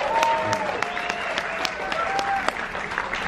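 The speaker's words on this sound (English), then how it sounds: "Give them a round of applause." A comedy club crowd at a carnival celebration applauds two comedians, sustained clapping with scattered sharp claps, while faint voices and whistles sit underneath.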